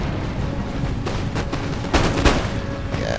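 Line infantry musket volleys in Empire Total War, with sharp crackling fusillades over a dense, steady battle din and a couple of louder bursts near the end.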